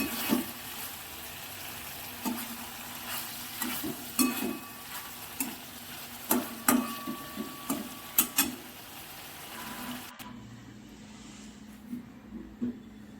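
Hilsa fish curry in mustard oil simmering in a pan, giving soft bubbling and sizzling with scattered stirring scrapes and taps, close and fairly quiet, ending in near silence.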